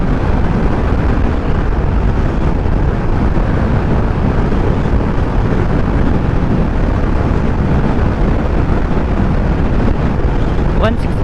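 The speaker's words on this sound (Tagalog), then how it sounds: "Medyo malakas na yung hangin guys." Strong wind roars and buffets the microphone while riding a Honda Click 125 scooter during a top-speed run, a loud continuous rush that masks nearly everything else.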